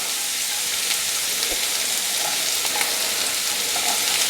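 Onions, peppers, tomatoes and green chillies fry in oil with a steady, close sizzle that holds without a break, broken now and then by a few soft stirring clicks.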